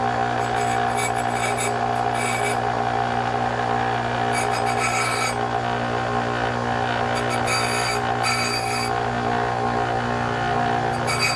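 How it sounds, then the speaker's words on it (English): Grinder wearing down a steel nail in a basement workshop during a Bostitch framing nailer trigger valve repair: a constant motor hum overlaid with bursts of harsh rasping where the nail meets the wheel, close and alone. "Let's take a nail and grind it down."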